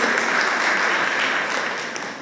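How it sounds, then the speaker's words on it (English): An audience at a cricket league trophy unveiling in Delhi claps in a dense, even roar of many hands, loud and close, tapering slightly toward the end. "Can we have a huge round of applause for her, please?"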